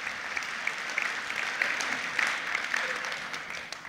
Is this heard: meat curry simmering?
no